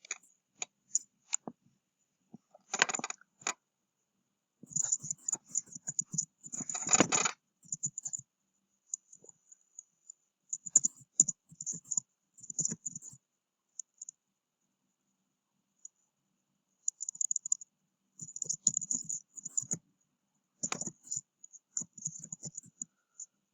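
Sparse computer mouse clicks, single and in short bursts, crisp and close against near silence, with no speech.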